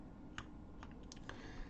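A few faint, sparse clicks of computer keyboard keys being pressed, including the Korean/English toggle key and V, sound close but quiet against a soft background hiss.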